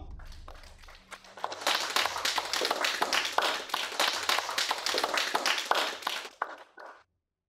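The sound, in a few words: applause congratulating a company on winning a tender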